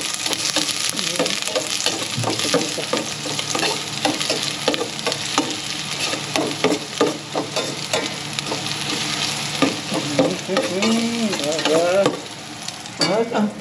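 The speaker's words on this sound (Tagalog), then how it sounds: "Magigisa na tayo. Mainit na po yung ating kaserola." Pork and aromatics sizzle loudly in a hot casserole pot, with a constant frying hiss broken by repeated scraping and stirring strokes of a utensil, close up and with no talk.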